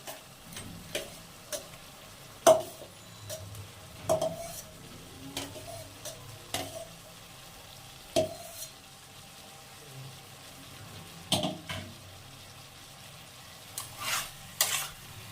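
Fried broccoli added to potatoes in a pan and stirred, with a soft, low background sizzle and sparse sharp clinks and scrapes of the utensil against the pan.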